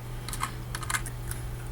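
Keys clatter on a computer keyboard in a quick, uneven run of close, crisp taps over a low steady hum.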